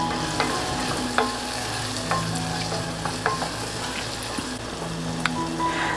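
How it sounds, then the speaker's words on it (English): A small onion sautés in a pan for barbecue sauce, a steady close sizzle and fry with occasional scraping stirs, heard alone without talk. "I'm going to put a small onion in and saute it until it's translucent. Stir in occasionally."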